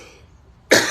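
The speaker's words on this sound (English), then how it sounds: "But I really did need to cough." A single sharp cough bursts out abruptly after a near-silent pause, close and loud.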